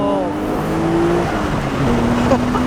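Twin-turbo Nissan Skyline R33 GTR V-Spec roars under load from inside the car, a loud continuous engine drone with rising pitch as it revs, while a person speaks over it.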